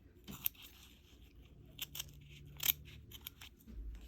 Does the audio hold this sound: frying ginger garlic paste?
no